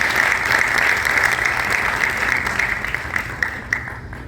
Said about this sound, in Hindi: एक बार हम तालियां बजाकर अभिनंदन करें